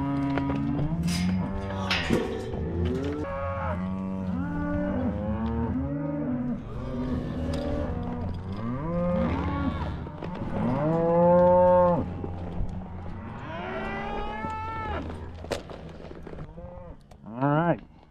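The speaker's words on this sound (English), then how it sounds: "Hey, cattle." Ranch cattle moo loudly and almost without pause, several animals overlapping in long, drawn-out calls, close by and filling the whole stretch.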